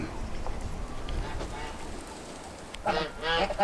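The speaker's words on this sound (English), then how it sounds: "let's see if I can get these silly birds in, because I just have more and more coming out" Domestic geese honk in a farmyard, with loud bursts of nasal honking calls near the end, over a background of outdoor noise and movement.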